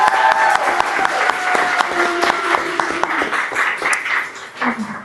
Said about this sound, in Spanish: Un aplauso para Rita Segato.